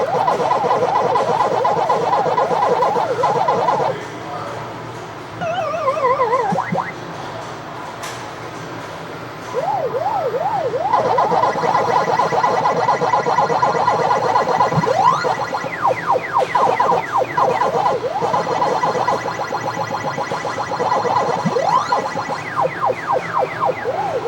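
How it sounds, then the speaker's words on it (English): The Pac-Man arcade game's warbling electronic siren loops steadily, rising and falling in pitch, with brief pauses and chirpy game blips scattered through. "that siren sound or that whistle sound, whatever you want to call it"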